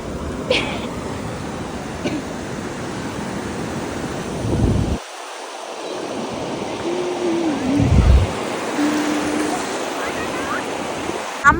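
Sea waves washing onto the beach at Digha as the evening tide comes in, a steady surf roar with gusting wind buffeting the microphone and a brief lull partway through.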